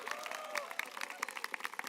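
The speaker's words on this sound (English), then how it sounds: "I want you to give him a round of applause for all the work." An audience at a presentation applauds the governor of Louisiana, a fairly faint crowd of overlapping hand claps rattling along steadily for a couple of seconds.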